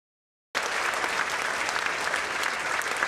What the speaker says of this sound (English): Applause by students and faculty members at Grand Canyon University after hearing their school will return to a nonprofit status.